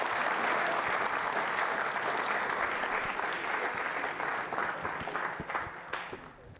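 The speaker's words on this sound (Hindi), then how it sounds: "जोरदार तालियां बजाइए।" Sustained audience applause at a university quiz show, dense and steady for several seconds before gradually thinning toward the end, with no talking over it.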